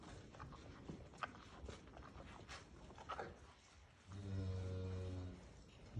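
Cow mooing on a farm near a newborn calf, one sustained low moo lasting about a second, moderately close over faint outdoor background and scattered small rustles and steps.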